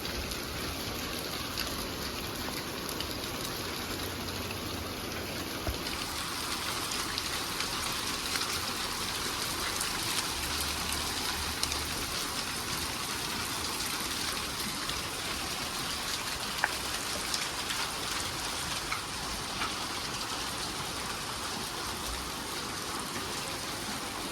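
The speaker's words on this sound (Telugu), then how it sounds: "వర్షమే ఇప్పుడు గట్టిగానే పడుతుంది" Heavy rain pours down in Madanapalle in a dense, continuous hiss, with occasional louder drips and splashes, steady and close throughout.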